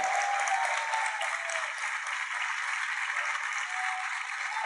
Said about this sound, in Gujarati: પાડો પાડો, તાળી પાડો.